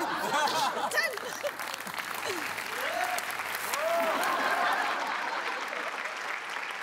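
Audience clapping loudly and steadily on a Marathi comedy show as a guest is welcomed, with scattered chuckles and a voice briefly cutting through the dense applause.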